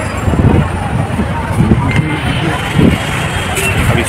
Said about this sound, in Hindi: ये रोड है, यहाँ पे बहुत ट्रैफिक है और उस तरफ एयरपोर्ट है।